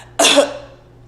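A single short, raspy cough bursts out close by and trails off quickly into quiet.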